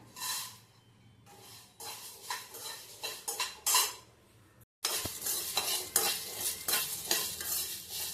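Cardamom pods being dry-roasted in a pan for homemade powder, a spoon scraping and stirring in repeated bursts with light crackle, close and fairly quiet, a brief pause midway before the stirring resumes alone.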